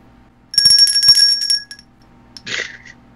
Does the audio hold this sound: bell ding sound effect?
yes